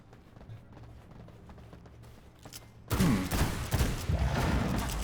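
Pistol shots ring out in the vampire survival game V Rising during a PvP castle raid, starting abruptly as a loud, dense volley of close blasts after a quiet stretch of soft footsteps and ambience.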